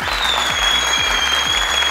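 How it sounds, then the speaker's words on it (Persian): A studio audience on the Afghan Family Feud game show Ro Dar Ro applauds the Shirzad family, a steady, full burst of clapping alongside a pulsing musical beat. "تشویق کنین خانواده شیرزاده."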